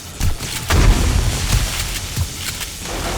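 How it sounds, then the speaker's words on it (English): Plasma shotgun in the 7 Days to Die game with the Darkness Falls mod, fired in a base defense test: several muffled booming blasts in quick succession over a dense, rumbling background of combat noise. "plasma shotgun, or laser shotgun"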